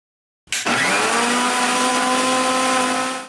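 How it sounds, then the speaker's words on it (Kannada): A kitchen mixer grinder whirs loudly as it blends coriander leaves, grated coconut and garlic, starting abruptly after a moment of silence and holding a steady, high-pitched motor drone close up with no voices. "ಕೊತ್ತಂಬರಿ ಸೊಪ್ಪು, ಕಾಯಿ ತುರಿ, ಬೆಳ್ಳುಳ್ಳಿ ಈ ಮೂರನೀಗ ಮಿಕ್ಸಿಗೆ ಹಾಕೋಣ"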